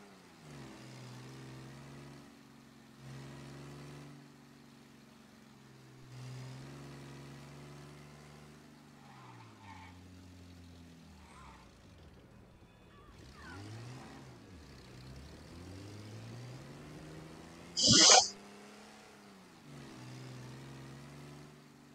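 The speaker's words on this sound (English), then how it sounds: "that's a good motor" A car engine in Mafia Definitive Edition hums at idle, then revs up and down in rising and falling sweeps, fairly quiet throughout, with one sharp bright burst near the end.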